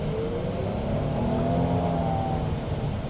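A 2026 Hyundai Palisade XRT SUV driving off-road in sand mode, its engine holding a steady, rising drone up close from inside the cabin, with no talk.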